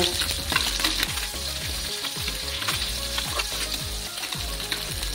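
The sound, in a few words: puti fish frying in oil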